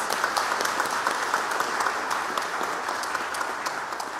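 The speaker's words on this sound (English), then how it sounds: "you deserve an applause" A Sunday service congregation claps together in a steady, even round of applause, a dense patter of many hands that continues throughout the short stretch.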